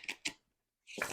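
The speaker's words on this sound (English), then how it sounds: "I'm sure I'm gonna be able to shuffle them just like a regular deck of playing cards" Small, bendy oracle cards shuffled like a tarot deck: two quick riffling bursts, a short pause, then a longer, denser shuffle, close and fairly quiet.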